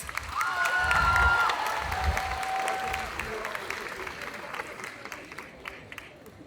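Crowd applause with scattered cheers and whistles at a cosplay contest, loudest at first and then tapering to lighter clapping, heard from a distance in a reverberant space.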